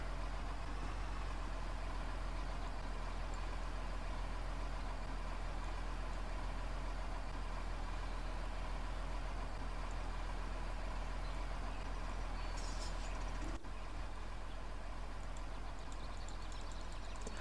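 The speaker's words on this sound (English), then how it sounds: "now I'm just pushing the tractor" A tractor engine in the Farming Simulator 2013 video game idles steadily with a low, even drone that holds at constant loudness throughout, broken only by a brief click near the end.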